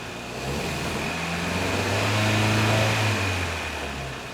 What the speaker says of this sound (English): that's why it's stuttering when I hit the throttle